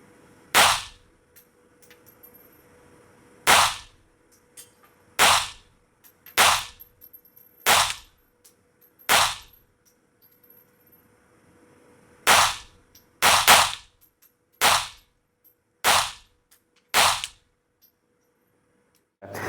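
A .32 Kiehberg PPZ pistol fires a full magazine, with about a dozen loud, sharp shots spaced roughly one to two seconds apart, several fired in quick pairs, followed by quiet.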